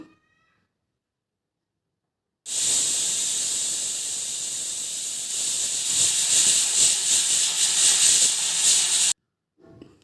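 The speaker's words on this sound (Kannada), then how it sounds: "ಅದತ್ರ ನಾಲ್ಕರಿಂದ ಐದು ವಿಷಲ್ ಹಾಕಿಸ್ತಾ ಇದ್ದೀನಿ" Pressure cooker cooking beans and green gram lets off a loud, steady hissing steam whistle that starts abruptly, holds for several seconds with a slight rise near the end, then cuts off sharply.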